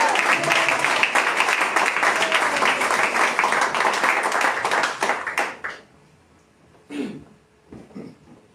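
A church congregation applauding together, dense steady clapping for about five seconds that then stops abruptly, followed by a quiet pause with a few faint sounds.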